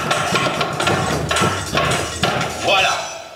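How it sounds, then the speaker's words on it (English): A hammer pounds on a bag of drinking glasses during a magic-and-science stage show, several heavy thuds in an uneven rhythm, with a crunchy clatter and the speaker's voice running underneath. "I pound on the bag with my hammer."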